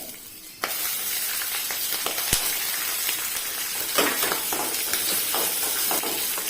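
Peanuts frying in a hot pan give a steady, close sizzle with scattered sharp crackles and pops, starting abruptly after a brief quieter moment and continuing with no talking.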